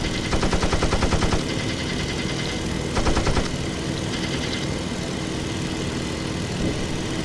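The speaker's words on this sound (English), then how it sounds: "I'm just shooting. I'm gonna shoot him down." Machine-gun bursts from a WW1 fighter plane in a flight simulator game, two rapid rattling volleys over a steady droning aircraft engine, with a shorter burst near the end.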